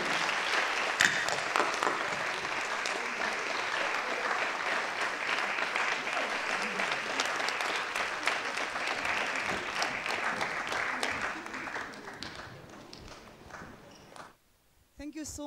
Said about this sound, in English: give a rousing hand of applause for all our honorees of this evening